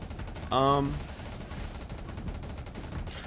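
A Spark Shotgun in the video game 20 Minutes Till Dawn fires continuously as a rapid, even stream of faint shots that runs through the whole stretch. A brief tonal voice-like sound rises over it early on.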